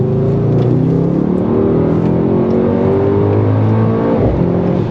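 A Mercedes-AMG GT63 in sport mode pulls hard with a loud, sustained engine roar whose pitch climbs steadily through the revs, heard from inside the car without talk.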